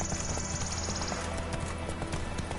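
A horse gallops in the video game The Witcher 3, with brisk, close clip-clopping hoofbeats in a quick rhythm over ambient game sound and a short high whistling tone at the start.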